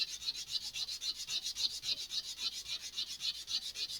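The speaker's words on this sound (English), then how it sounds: "I'm probably going to go through a decent amount of sandpaper doing this." Sandpaper rasps steadily over the wooden parts of an Estes Black Brant XII model rocket, with quick, even back-and-forth strokes repeating about four times a second, close and moderately loud throughout.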